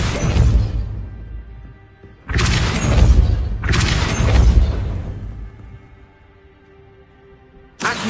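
Depulso spell effects in the video game Hogwarts Legacy: loud booming whooshes that come in separate bursts, each about a second long, with quiet gaps and a faint low hum between them.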